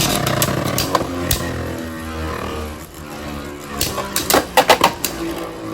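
Archer Hercules Beyblade tops spin and clash in a stadium, giving scraping whirs and a run of sharp clattering impacts, with a cluster of hard hits close together near the end.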